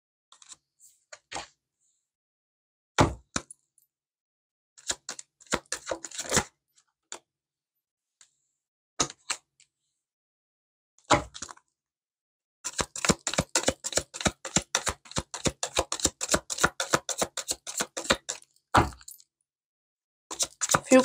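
Playing cards riffled and dealt in short bursts of quick crisp snaps, then a long rapid run of fluttering shuffle clicks, close and fairly loud with silent gaps between, no voices.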